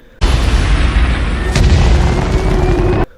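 Oil trucks exploding in a film action scene: a huge, sustained roaring blast that starts abruptly, with a sharp secondary crack partway through, then cuts off about three seconds later.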